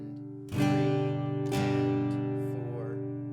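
A guitar is strummed in a sparse pattern, a bright chord attack followed by a second one a second later, each left to ring out.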